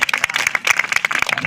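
Crowd applause at a Hindi kavi sammelan poetry recital, a burst of many sharp, overlapping hand claps, loud and close, lasting about a second and a half.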